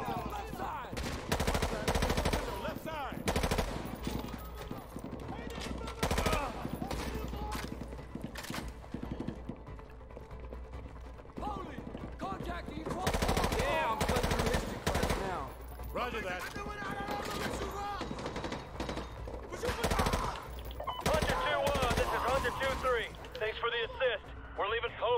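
Gunfire in Call of Duty: Modern Warfare 2 Remastered: repeated automatic bursts and single shots, moderately close, recurring throughout over a low rumbling backdrop, with voices talking between and over the shots.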